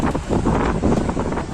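Strong storm winds sweep through the Mahakal Lok temple corridor, a loud, continuous broadband roar that gusts and swells without a break.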